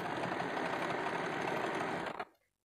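A sewing machine runs a continuous, close, loud burst of stitching along the side seam of a double katori blouse, then stops abruptly near the end.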